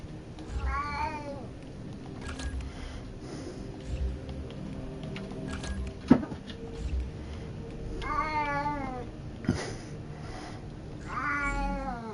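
A pet cat meows several times at close range in a quiet room, with separate drawn-out calls spaced across the stretch and a soft thump near the middle.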